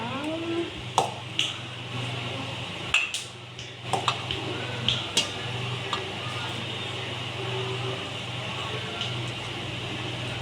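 Borugulu puffed rice mixture stirred by hand in a bowl, a steady soft rustle punctuated by sharp clinks of utensil against the bowl, close and moderately loud, with faint talk in the background.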